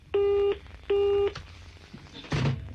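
Two steady electronic busy-signal tones, each lasting about half a second, sound over a radio studio phone line, followed by a brief clunk as the handset is handled.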